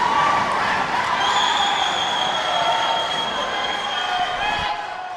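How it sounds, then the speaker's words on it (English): A volleyball crowd at a college conference match roars and cheers continuously, a broad sustained wash of voices with whistle-like tones over it, fading slightly at the end. "Listen to this crowd roar."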